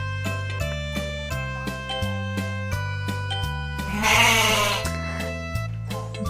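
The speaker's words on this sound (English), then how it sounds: "Goat." A goat bleats once over a looping, bouncy children's music bed of plucked notes and steady bass, the wavering cry rising briefly above the tune near the end.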